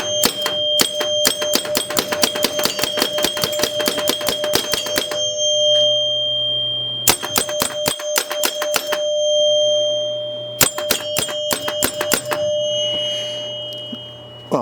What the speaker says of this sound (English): we know our chimes are working